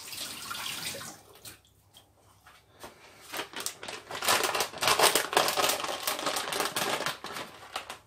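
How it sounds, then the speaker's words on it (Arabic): Hands being washed under a running tap while making and freezing homemade pizza, heard as splashing, crinkly water noise that swells and stays fairly loud and close, with no talking. "غادي نغسل يدي"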